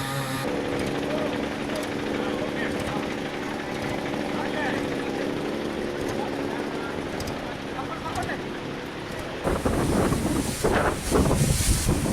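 Strong cyclone winds lash the coast of the East Godavari, Krishna and Visakhapatnam districts, with rough sea waves. They make a continuous, dense roar that swells louder and harsher near the end.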